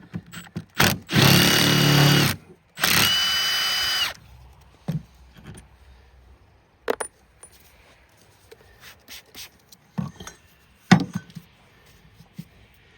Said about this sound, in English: we're going to see if we can get this bolt here loose